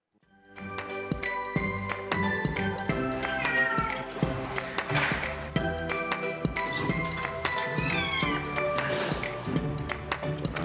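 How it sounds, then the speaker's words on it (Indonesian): Bengal cats in a home cattery in Pasuruan, East Java, meowing repeatedly over jingling, tinkling background music, their calls fairly close and clear. "membudidayakan kucing Bengal di Kota Pasuruan, Jawa Timur"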